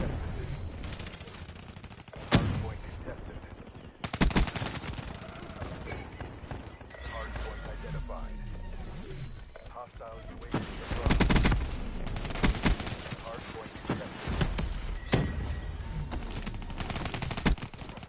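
Video game gunfire: bursts of automatic fire and single shots crackle under someone talking, over a constant noisy game backdrop.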